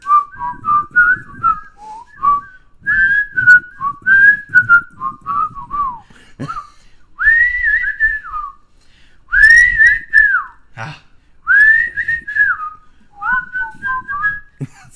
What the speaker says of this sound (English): See, harmony whistles.